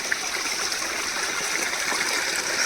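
Water spilling from the far edge of a village stepwell in Himachal and running across a road, a steady broadband wash of flow with no clear pauses, moderately loud throughout.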